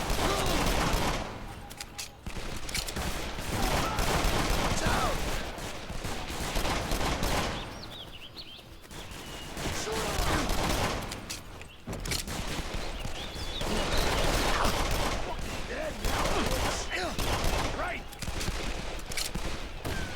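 Automatic AK rifle fire in the video game Call of Juarez: The Cartel, loud repeated bursts filling most of the stretch with brief pauses between volleys, mixed with game sounds.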